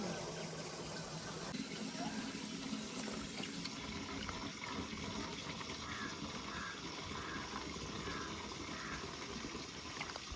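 Water pours steadily into a container, a continuous rushing gush lasting the whole stretch without pause.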